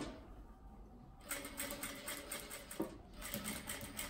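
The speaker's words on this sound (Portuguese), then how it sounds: "você vai costurando e abrindo as beiradinhas" Sewing machine stitching the seam of a child's dress, a quiet whirring run that starts after a brief pause and continues steadily with a short stop near the end.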